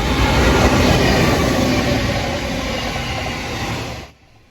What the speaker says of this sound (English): On the up main are 2 more of these locos.